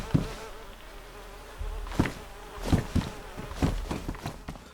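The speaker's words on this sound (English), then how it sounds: "when I heard flies buzzing around" Flies buzz in the DayZ video game, a low drone with several louder passes swelling in and out over faint ambient noise, with no talking.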